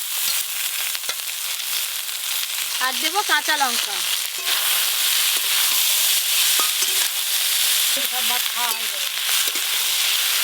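Dhenki greens frying with aubergine and green chilli in a pan, a constant close sizzle with occasional stirring, while someone talks twice over it.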